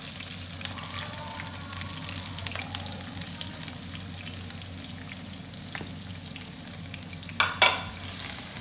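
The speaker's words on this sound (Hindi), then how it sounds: "और मैं इनको हल्का सा फ्राई करूँगी।" Two medium-sized chopped onions fry in four to five spoons of oil, giving a continuous soft sizzle and crackle, with a brief clatter of stirring near the end.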